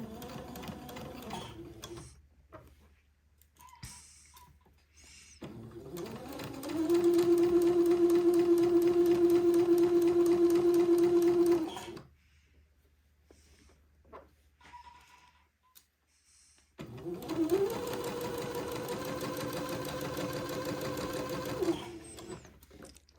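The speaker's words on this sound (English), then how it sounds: "I'm going to just sew right next to the Entredo ladder with a straight stitch" A sewing machine runs a straight stitch in two long, steady bursts of rapid mechanical whirring, with quiet pauses and small handling sounds between them.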